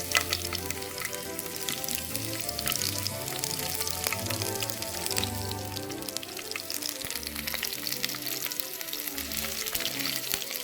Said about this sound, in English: The first thing is I'm adding little bit of dried red chilies, small one